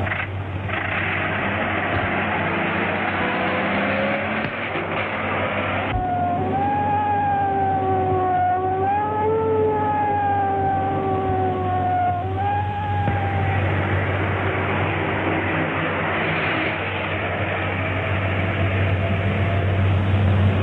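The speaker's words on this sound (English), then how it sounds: "You two follow that police car." A police car siren wails in rising and falling sweeps over a steady engine hum, loud and close, holding for several seconds before fading back into the engine noise.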